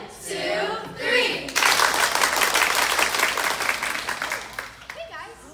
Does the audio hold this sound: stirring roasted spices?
no